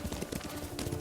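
A horse trots in Ghost of Tsushima, a quick rhythmic clip-clop of hooves that is fairly faint and close, repeating steadily over about a second.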